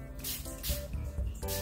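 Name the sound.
deodorant spray being sprayed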